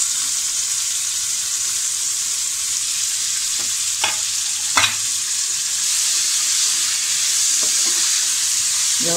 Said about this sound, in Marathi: हा आपला ग्रेव्हीसाठी कांदा आहे। तर आपल्याला हा छान काळा करायचा नाही आहे, फक्त त्याचा गोल्डन ब्राऊन कलर येईपर्यंत आपल्याला छान परतून घ्यायचं आहे।